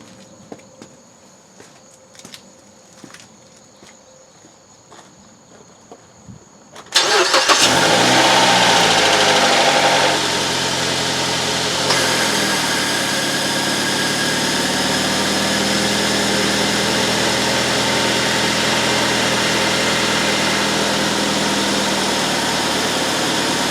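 A 2010 Mazda 3 with a 2.0 liter engine fired up right after an oil change: quiet clicks, then the starter catches and the engine flares loudly before settling into a steady, close idle.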